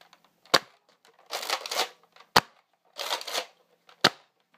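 A Nerf Slingfire blaster being fired, with three sharp snapping shots spaced about two seconds apart, separated by bursts of rattling, scraping handling noise as the blaster is cocked and reloaded, close and fairly loud.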